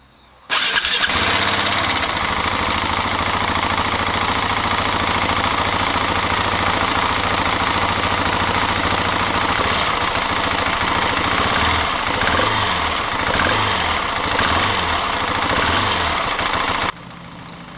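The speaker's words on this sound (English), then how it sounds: "The engine on this bike is pretty loud" A motorcycle engine, unmodified but fitted with an aluminum skid plate, idles steadily and loudly for the whole stretch, a deep continuous rumble with a slight rhythmic pulse, cutting off near the end.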